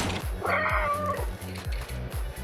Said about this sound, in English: the cat game with a dedicated meow button